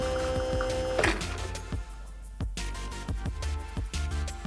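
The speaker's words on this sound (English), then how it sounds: "Look at that, there's a real espresso coming out." An espresso machine pulls a shot after the grounds from an AMZCHEF grinder are tamped, giving a steady mechanical pump hum with rhythmic pulsing and a brief hiss, close and alone.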